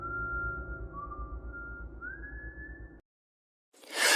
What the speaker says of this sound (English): don't whistle at night.